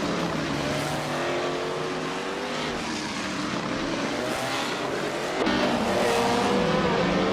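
Race cars roar together in a video game contest, the engines droning steadily with rising and falling pitch as several cars run nose-to-tail, loud and continuous throughout with a brief surge near the end.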